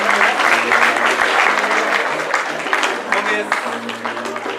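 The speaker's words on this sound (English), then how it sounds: "give us a please a round of applause for her." A conference audience claps steadily in dense, sustained applause, loud and continuous over a low background hum.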